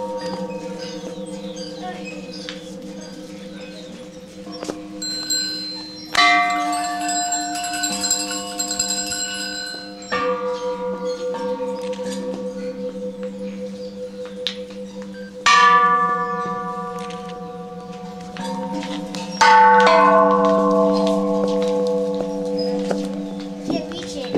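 A gong struck several times, each hit ringing out with a long shimmering sustain that slowly decays, while children and adults talk over it and birds chirp faintly in the background.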